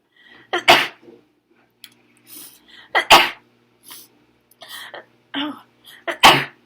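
A person sneezes repeatedly: three loud, close, explosive sneezes spaced a few seconds apart, with smaller gasps, sniffs and breaths between them in a quiet room.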